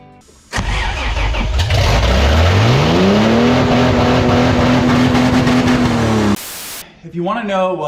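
A runaway Toyota 3FE engine roars up to a high, steady rev and holds there, screaming continuously before cutting off abruptly, followed by brief faint sounds.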